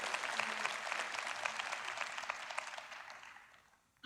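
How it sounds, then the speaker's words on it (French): Faint, thin applause from a church congregation during a French sermon, scattered claps that taper off over a few seconds before a sudden loud sound at the very end. "votre applaudissement était un petit peu faible"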